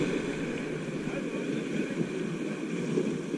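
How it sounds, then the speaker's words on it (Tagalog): Strong waves roar steadily at a beach in Ternate, Cavite, with wind noise buffeting the microphone, a continuous broad wash with no distinct breaks. "Malakas yung alon guys"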